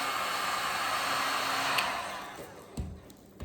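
A heat gun blows a steady, loud hiss of hot air while sealing shrink wrap around an artisan soap bar, then cuts off near the end, followed by a couple of soft handling knocks.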